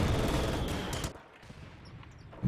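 Dense automatic gunfire in a real-time strategy battle, double machine gun positions cutting down advancing shock troops, loud and continuous before breaking off into quieter distant shots, with a fresh burst at the end.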